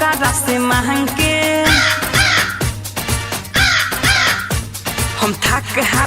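Crow caws ring out repeatedly, loud and close, set against a rhythmic sung folk tune with a steady beat.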